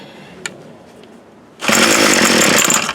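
A Troy-Bilt TB22 two-stroke string trimmer, pulled out of storage in poor condition, sits quiet with faint clicks before its engine abruptly catches at about 1.6 seconds and runs at a loud, steady buzzing roar close by.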